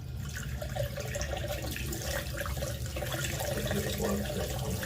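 A hot water tap runs steadily during a test of a Ravenheat boiler, with continuous rushing water held at an even level throughout.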